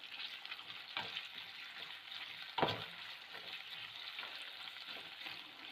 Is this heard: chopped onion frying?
yes